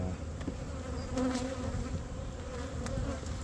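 Agitated honeybees buzz steadily and densely around an opened hive during an inspection, close and continuous with no talk.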